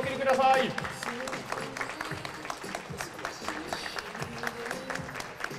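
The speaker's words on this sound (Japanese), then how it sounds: "皆さん盛大な拍手をお送りください。" Audience applause rings out for the pairs in a mixed 10m air pistol shooting competition, a moderately loud, steady patter of many hands clapping in an indoor hall, with a brief swell at the start and some voices mixed in.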